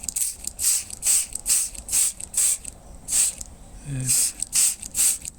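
A hand spray bottle mists fermented growth-promoting liquid onto radish seedlings grown in plastic PET bottles: about a dozen short, close, hissing squirts in an uneven rhythm, with a brief voice partway through.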